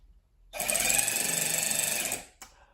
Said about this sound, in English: I have my DeWalt power ratchet